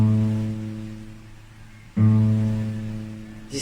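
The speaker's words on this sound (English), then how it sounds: "This is the A, the sound of A." Open A fifth string on a guitar sounded in a beginner lesson: a ringing note fading slowly, then plucked again about two seconds later and decaying, with a third pluck starting at the end, no talk.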